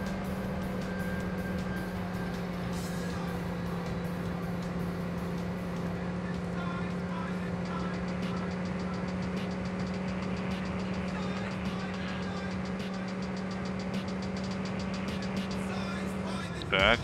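An AC Cobra 427 engine in the racing game TORCS drones loud and steady at high revs in fourth gear, a constant mechanical roar running unbroken throughout.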